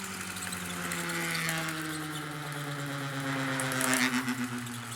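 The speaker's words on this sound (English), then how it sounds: "So look at what happens when I short out those generator coils." A dual rotor motor generator whirs steadily with its generator coils shorted, a continuous close electric-motor hum whose pitch sags slowly downward, with a faint rattle swelling near the end.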